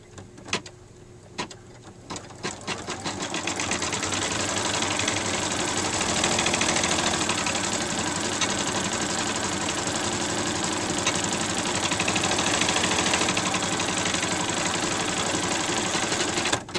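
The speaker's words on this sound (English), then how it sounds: "let the machine sew this next seam for you" An embroidery machine stitches a seam in fleece for a plush Easter egg, starting with a few sparse clicks and then settling into a loud, steady, rapid mechanical chatter that runs on without pause.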